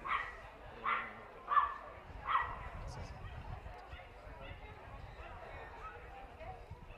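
Griffon Bruxellois barking at a dog show, four short yips spaced under a second apart and then a fainter, lower-key stretch of hall noise.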